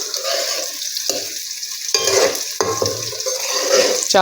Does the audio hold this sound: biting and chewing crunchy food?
no